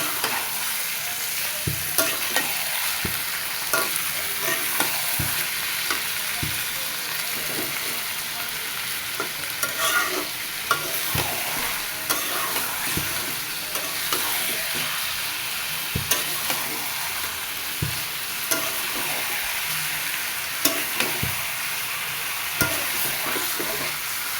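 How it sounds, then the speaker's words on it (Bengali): Meat frying with onions in a pan, cooked at night by phone light: a steady, loud sizzle with regular scrapes and knocks from stirring throughout, with no talking. "এবার পেঁয়াজের সাথে মাংসটা ভালো করে ভেজে নেব।"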